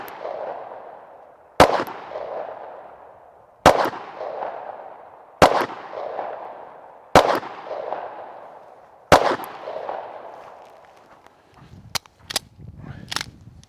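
Six sharp pistol shots from a Springfield Hellcat firing Black Hills HoneyBadger +P ammunition, spaced about two seconds apart, each a loud crack trailing into echo, followed by faint handling clatter.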